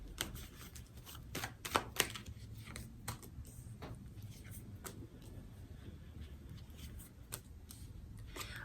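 Tarot cards are shuffled close up, giving soft, irregular riffling flicks and taps at low volume with a few sharper snaps, and no talking.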